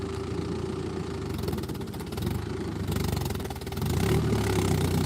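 A vehicle engine idles nearby on a paddy farm with a steady, pulsing mid-range rumble and rattling vibration that grows a little louder toward the end.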